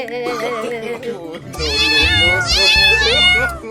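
Loud cartoon kitten meowing close by, a few long, wavering cries in quick succession that sound somewhat voice-like.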